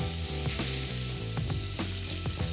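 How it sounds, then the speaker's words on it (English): Red onions fry in bacon fat with a continuous, crackling sizzle, overlaid by faint stirring taps and a low background hum, with no voices. "So I'm gonna toss the red onions right into the bacon fat"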